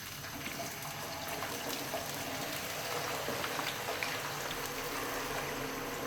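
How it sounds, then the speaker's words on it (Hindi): Potato finger chips deep-frying in hot oil, a dense, steady crackling hiss that holds evenly throughout, close by with no talking. "फ्राइज़ फ्राई कर लेते हैं।"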